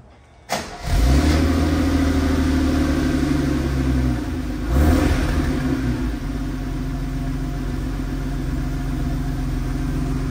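A 1982 Mercedes-Benz 280SL engine cold-starts, cranking and catching at once, revs up briefly, then settles into a steady, loud idle with a second small rev midway.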